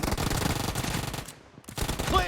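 Rapid bursts of Uzi submachine gun fire in PUBG Mobile, dense automatic shots with a brief pause mid-clip before firing resumes.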